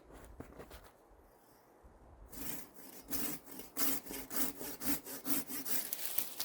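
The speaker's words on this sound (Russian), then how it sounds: "Вот можно попробовать ради интереса этой пилой спилить веточку." A lightweight Japanese hand saw cuts through a small branch outdoors, starting with faint scraping and then settling into a steady rhythmic back-and-forth rasp of close, loud strokes.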